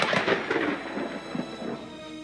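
Deep, muffled rumbling booms roll and crackle continuously, like distant thunder, with no voices.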